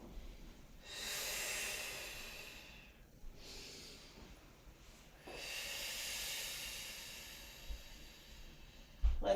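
Long hissing breaths drawn in and let out slowly during a yoga stretch, three broad swells with short pauses between them, close and fairly quiet, with no talking over them.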